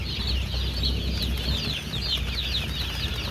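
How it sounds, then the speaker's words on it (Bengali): Chickens at a village poultry farm in the rainy season, with a light wind outside: overlapping high chirps and clucks run continuously alongside occasional wing flapping, with no talking. "মুরগি ভালোই আছে"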